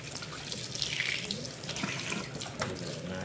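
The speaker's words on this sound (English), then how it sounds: "I'm just going to rinse it with plain water." Cold water runs from a tap over a water purifier being rinsed in a sink, a continuous gushing splash with dripping and shifting spray, steady and close, no talk.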